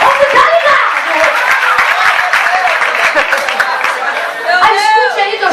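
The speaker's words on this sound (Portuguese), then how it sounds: "Botando palmas para os obreiros." A church congregation claps for the church workers, dense rhythmic applause with chatter and laughter mixed in, swelling again near the end.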